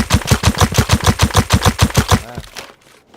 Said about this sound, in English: see what's going on with the snowball gun, see if it's any good